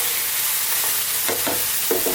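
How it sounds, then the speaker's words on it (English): Lamb karahi curry on the bone being stirred in a hot pan, a steady close sizzle with a few soft scraping stir strokes near the end. "A little stir there."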